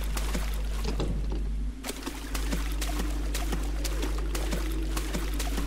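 Continuous watery sound in the video game Amnesia: a steady trickling, pouring flow with a constant low hum beneath and scattered small clicks and drips, loud and unbroken throughout.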